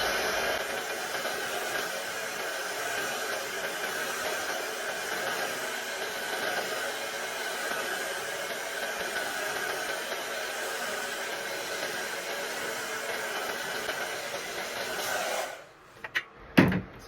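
A hair dryer blows steadily while drying hair, a constant close airy roar for about fifteen seconds before it cuts off, leaving a few brief handling knocks.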